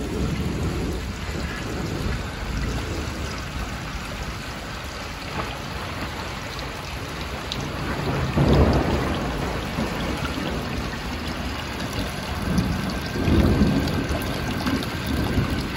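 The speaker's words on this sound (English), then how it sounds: "I'm gonna do another flush like this so you can see the tilt valve in action." A 1968 American Standard Cadet toilet with a tilt valve flushes, giving a steady, close rush of water for about sixteen seconds with swelling surges partway through and near the end.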